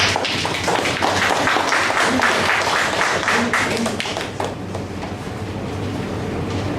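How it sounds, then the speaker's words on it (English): Audience applause at a Toastmasters club table topics session, a loud, continuous patter of clapping that eases slightly toward the end, with faint voices mixed in. "Let us give the great applause to her."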